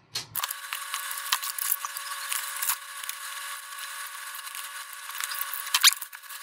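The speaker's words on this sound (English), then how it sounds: "drill another hole." A drill bores a hole through an inverter enclosure, a steady high whine running close and unbroken for several seconds after a brief start.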